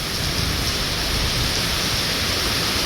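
Heavy rain pours steadily during a downpour, a dense, loud, unbroken hiss with no pauses and no voices.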